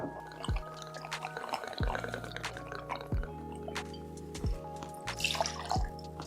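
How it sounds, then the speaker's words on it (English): Vodka is poured in short glugging spurts into a cocktail shaker, with a few drips and small clinks between pours. "pour 2 ounces of vodka into your shaker"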